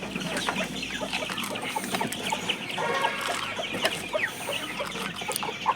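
Several laying hens cluck and murmur nearby at feeding time, steady overlapping calls with occasional sharper squawks over faint background noise.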